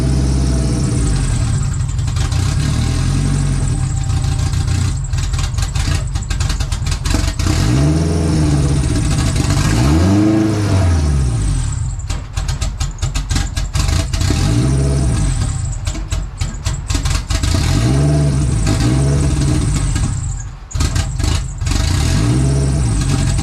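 A Honda CRX with an all-wheel-drive H2B engine swap cranks and fires, then runs loud and rough, with repeated revs rising and falling over a steady idle for about twenty seconds, close up.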